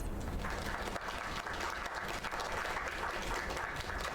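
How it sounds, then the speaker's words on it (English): Audience applause from a crowd at a singing performance, a dense steady clatter of clapping sustained throughout, fairly faint and distant. "Another round of applause."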